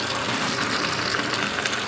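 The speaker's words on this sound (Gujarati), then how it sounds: "પાણી ભરી દઈએ આખું" Tap water runs steadily into a container as it is filled to the top for soaking, giving a continuous close gushing hiss with no pauses.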